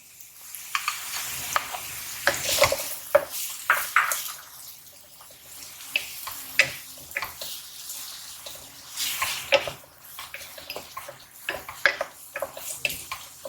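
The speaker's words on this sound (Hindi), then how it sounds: "और आपको चमचा हिलाते रहना है वरना वो चिपक भी सकता है और जल सकता है।" Chopped onions being stirred with a spoon in a hot pan for a chicken cheese roll filling, producing bursts of bright sizzling and repeated scraping strokes in an uneven rhythm, close and fairly clear.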